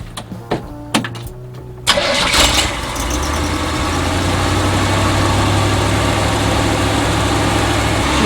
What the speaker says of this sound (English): listening here now, wait to see how low the idle drops.